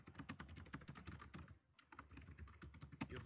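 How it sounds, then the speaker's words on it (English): A loud computer keyboard clatters with rapid, uneven keystrokes in a close, steady burst, with one short pause partway through. "You have the loudest keyboard in the universe."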